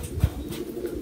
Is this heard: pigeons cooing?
yes